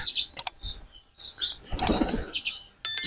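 Pigeons in a loft flap their wings in several quick, sharp bursts, close by, with faint chirps between the flutters and no speech.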